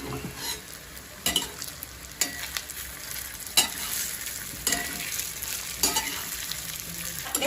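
A spoon stirs a spinach muthiya mixture with red chili in a sizzling pan, giving quiet, intermittent scraping strokes over a steady frying hiss.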